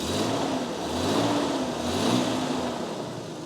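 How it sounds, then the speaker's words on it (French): An old Jeep engine running in place, its mid-pitched hum swelling and easing in a couple of gentle revs as the throttle is opened, steady and fairly close with no talk. "Donc là, si tu veux, il tourne normalement le Jeep. Pas de souci. Si j'accélère,"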